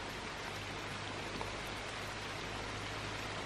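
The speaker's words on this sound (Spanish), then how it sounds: "Está tronando. Está empezando a llover" Rain falls outside a treehouse cabin as a soft, even hiss, quiet and constant, with a low steady rumble underneath; no distinct thunderclap stands out.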